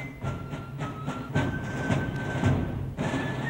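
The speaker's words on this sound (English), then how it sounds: "The Japanese had never seen technology like this toy train before." A train rumbling steadily along with rhythmic clickety-clack beats from the wheels and a faint high squeal over the top, continuous and fairly loud, with no voices.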